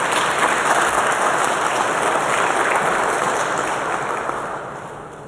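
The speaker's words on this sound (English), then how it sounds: "I want you to be congratulated once again with another round of applause." Dense, steady applause from a large crowd at a university graduation ceremony, filling the whole stretch at a loud, even level before easing slightly toward the end, with no voices standing out.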